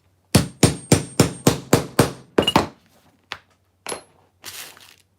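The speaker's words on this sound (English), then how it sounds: "I'm going to hammer this, but this makes it so much easier to get rivets into the middle of areas." A hammer strikes rivets into a leather bowler bag, giving about seven sharp, evenly spaced blows followed by a few looser, lighter taps and clinks, close and loud with no talking.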